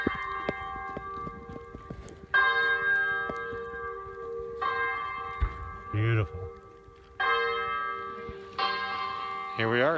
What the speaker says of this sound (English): We're at the Santuario de Chimayo. There you go, there's the bells.